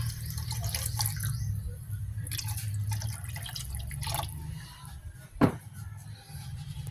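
Water poured into a cooking pot of sautéed sponge gourd (patola) with misua noodles, heard as steady dripping and splashing over a low kitchen hum, with one sharp clank near the end.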